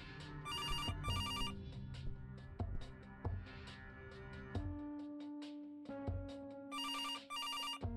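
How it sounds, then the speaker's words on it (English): A telephone rings in the video game Kathy Rain, with two bursts of trilling electronic bell at the start and two more near the end, over a soft tonal music bed. "She knew the phone was going to ring, so she stopped talking."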